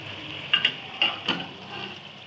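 Soft, steady sizzling of beef frying in hot oil with browned onions, with a few brief scraping or stirring clatters near the start; fairly quiet and close.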